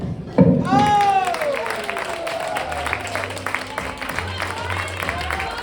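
Audience applause at a poetry reading in Los Angeles, a broad round of clapping and cheering that swells early and carries steadily to the end, with a voice briefly heard over it.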